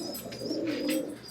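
Caged pigeons at home give a short run of low, rolling coos, close and continuous, over a faint background hum.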